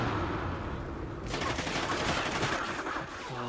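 Rapid automatic fire from the player's gun in Call of Duty: Ghosts breaks out after a brief lull, a loud, dense burst of shots lasting a couple of seconds before easing off.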